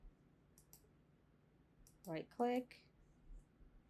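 Quiet, sharp computer mouse clicks come in a few separate pairs during video editing in Premiere Pro, with a brief burst of voice in the middle.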